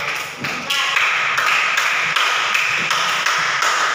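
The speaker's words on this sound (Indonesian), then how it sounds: "berikan aplaus untuk kelompok 4" Applause from students in a classroom for a group, a dense run of claps that rises quickly and holds steady, loud and close, with rhythmic taps in the mix.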